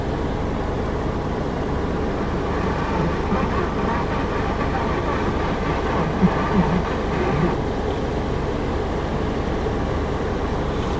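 A 2015 Mahindra TUV 300 T8 diesel engine runs steadily after starting, a continuous low rumbling idle with faint clatter throughout, no voices over it.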